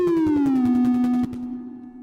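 A buzzy synth tone in Renoise glides steadily downward in pitch by one tone, then holds a lower note that fades slightly, with a faint pulsing beat underneath.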